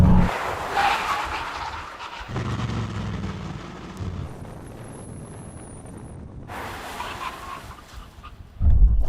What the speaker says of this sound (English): Right, there's 100 miles an hour. Brake hard now.